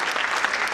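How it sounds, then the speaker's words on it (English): Applause from the audience at an award ceremony honouring an Odissi dance guru, a dense, steady clatter of many hands clapping that fills the whole short stretch. "A big applause"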